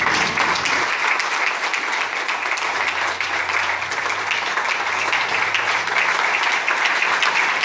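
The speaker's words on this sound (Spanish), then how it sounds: "Denle un aplauso al Señor" A church congregation gives a steady, loud round of applause during a service. The dense clapping continues without pause for several seconds.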